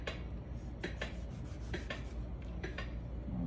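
A knife cuts a tomato into quarter-inch slices on a cutting board for salsa. Several short rasping strokes are close and fairly soft and come at an uneven rhythm.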